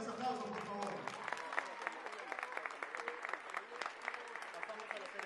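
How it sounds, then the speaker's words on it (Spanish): Audience applause at a school ceremony marking new facilities at the José Sevilla school, a steady patter of many hands with voices mixed in, fairly distant. "fuerte los aplausos por favor"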